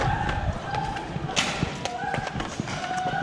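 FDL foam dart blaster shots striking a target, a string of sharp thumps and taps spread over a few seconds with faint background voices.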